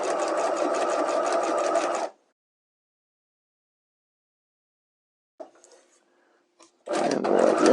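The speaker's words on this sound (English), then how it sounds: "you want to make sure as you're stitching horsehair braid on, you want to kind of push it through" Sewing machine stitching horsehair braid onto a fabric hem, running in a steady loud whir for about two seconds, then silence, a few faint handling clicks, and the motor starting up again near the end.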